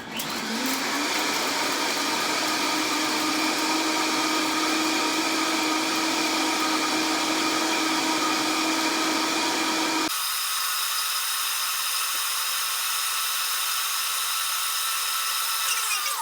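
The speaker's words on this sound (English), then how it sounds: "The blending of the smoothie, I like to blend it for about a minute." A blender runs on high, blending a green smoothie, with a loud, continuous motor roar for about ten seconds that then shifts to a thinner, steadier whine as it carries on, close and with no talk.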